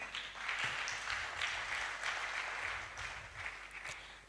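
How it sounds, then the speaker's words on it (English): Clapping from an audience at an International Youth Day 2024 event, sustained even applause that swells and eases slightly across the few seconds, moderately distant, with no speech over it. "A round of applause once again."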